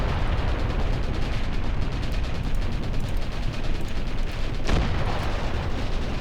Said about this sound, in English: With that artillery strike hitting the enemy